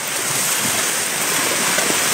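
Fast-moving floodwater rushing through Gombak, a loud continuous roaring wash of water that fills the whole short stretch without a break, no talking.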